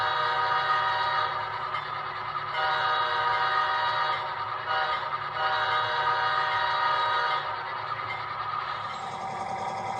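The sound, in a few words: BC Rail K5H horn on HO model locomotive sound decoder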